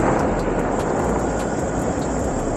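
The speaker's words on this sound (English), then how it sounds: "I'll just pin the throttle again, just so you can see the comparison" An electric motor under full throttle from a TORP controller makes a loud, steady rushing whir with a high tonal whine and periodic ticking, close and continuous without speech.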